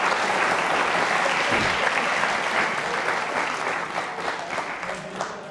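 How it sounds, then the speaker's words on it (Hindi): Loud, dense audience applause fills a quiz show hall at a Jain school, a steady wash of many hands clapping at once that tapers slightly toward the end, with no talk over it. "अपने लिए तालियां बजाइए जोरों"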